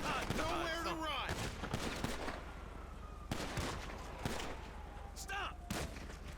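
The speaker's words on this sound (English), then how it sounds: "the police will shoot and kill Franklin despite him doing nothing wrong" Police opening fire on Franklin in the video game GTA 5: sharp, loud gunshots crack out in irregular bursts and single shots over a steady engine-like rumble, with voices talking through the shooting.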